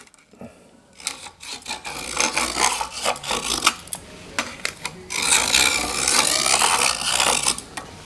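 A homemade metal marking gauge scribes a line, making close, scratchy rasping strokes in several short bursts followed by a longer continuous scrape, with no talking.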